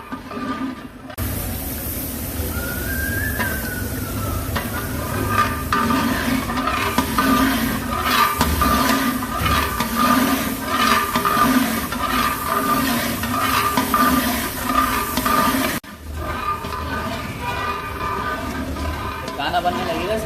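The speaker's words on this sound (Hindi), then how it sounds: "प्याज ऐड करने के बाद इसको अच्छी तरह से भूनेंगे 3 से 4 मिनट के लिए" Onion masala with spices frying in a pan for chicken korma, a dense steady sizzle and hiss close by, with light stirring scrapes and a voice talking over it, cutting off near the end.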